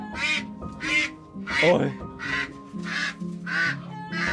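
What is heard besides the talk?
ducks and geese quacking under a stilt house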